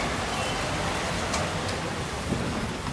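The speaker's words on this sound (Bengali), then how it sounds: "এদিকে ভালো জোরে বৃষ্টি টিনের চাল আছে তো" Heavy night rain drums on a tin roof in Dhaka as a dense, loud, unbroken wash of hiss and patter, with no voices.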